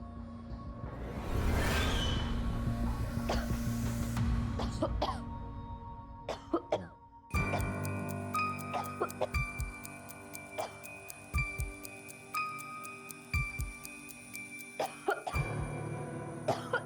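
A person with an old, lingering cough coughs and clears the throat repeatedly in the first few seconds over a low drone, then the scene shifts to sparse ticking and tonal music cues with no speech.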